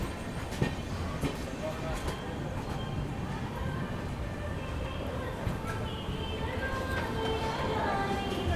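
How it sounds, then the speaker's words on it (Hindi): The 12622 Tamil Nadu Express rolls into platform 1 at Warangal in the monsoon, a steady low rumble with rhythmic clatter of wheels on rail joints, heard from on board and close. "ट्रेन अपनी अराइव कर रही है वरंगल के प्लेटफॉर्म नंबर 1 पर"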